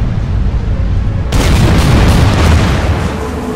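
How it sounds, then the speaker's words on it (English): Warship primary guns fire in the WW2 strategy video game Order of Battle, a loud boom that hits about a second in and leaves a dense rumbling roar after it. "We're going to switch to primary guns here."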